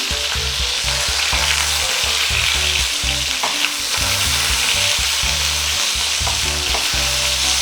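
Sausages fry in a hot pan with a loud, steady sizzle and crackle, while turning and scraping noises run beneath it and no one speaks.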